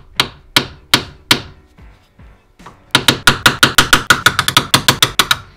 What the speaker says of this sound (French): c'est un marteau en bronze en fait